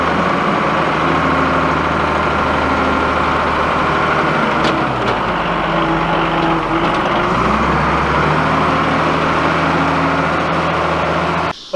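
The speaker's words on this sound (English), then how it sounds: "we're gonna use this big tractor to lift that pumpkin" Heavy tractor engine rumbling and droning steadily at close range for the whole stretch, with shifting low tones as it revs slightly.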